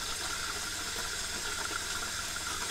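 The water pump in an R-Pod RV runs during dewinterizing, making a steady, faint, rattling whir with a constant hiss of running water and no voices.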